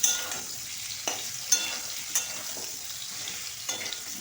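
Potatoes fry in oil in a wok with a steady soft sizzle, broken by several sharp scrapes and clinks as they are stirred.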